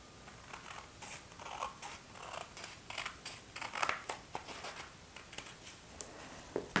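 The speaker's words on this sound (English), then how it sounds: "I'm actually going to cut across the bottom here" Scissors cutting across the bottom of a paper seed packet, heard as faint, close, irregular snipping and paper rustling, with no talk.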